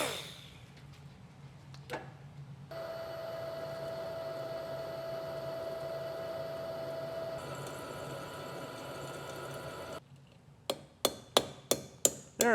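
Sharp metallic hammer strikes, about six in quick succession near the end, drive a cut screwdriver piece down into an engine's water jacket during a rebuild, following a long steady machine hum.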